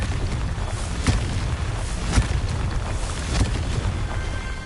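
Blasts from the Confringo fire spell in Hogwarts Legacy, three sharp booms spaced about a second apart over a steady rumbling wash of game noise; fairly loud, no voices.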